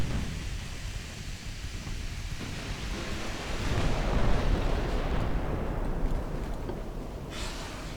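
Naval gunfire in the warship game Ultimate Admiral Dreadnoughts: a dense, continuous rumbling roar of distant heavy guns and blasts, swelling in the middle and holding loud to the end.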